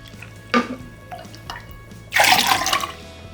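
Vinegar poured from a measuring cup into a container for a homemade weedkiller, with a short splash near the half-second mark and a louder, sustained liquid pour in the final second, close and clear.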